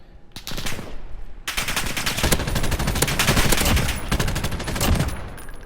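A PKM machine gun fires in the video game Modern Warfare, loud rapid bursts of automatic shots with brief pauses between strings of fire, close and dominant.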